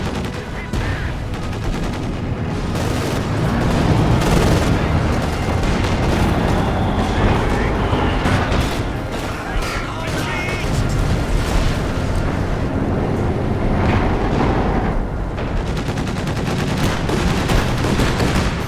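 Sustained gunfire and explosions pound an HQ in Company of Heroes 2, a dense, continuous battle din of rattling machine guns, shots and booms, loud throughout with no let-up.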